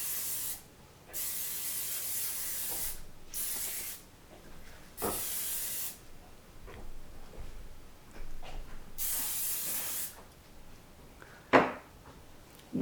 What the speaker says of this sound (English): here's my bread pans that I'm going to just coat with cooking spray